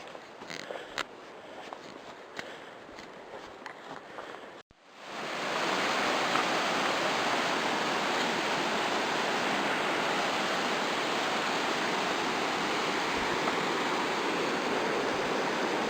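A river rushes past an undercut dirt bank on an abandoned trail spur, a loud steady roar that rises suddenly after a few seconds of quieter outdoor rustling and faint clicks.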